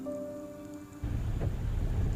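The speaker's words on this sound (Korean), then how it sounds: "마침 비가 오네요." Rain falls steadily, a dense, even hiss that swells in after a second of quieter hum and keeps going without any voices.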